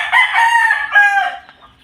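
A young rooster (stag) on a farm lets out one loud, close crow that rises, holds and trails off, with nothing else around it.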